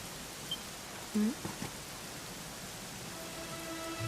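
Steady, soft rainfall in the Dragon Quest XI video game forms an even hiss throughout, with no voices over it.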